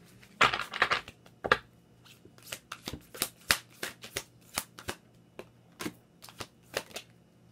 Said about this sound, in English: Let's go ahead and get some oracle cards for you guys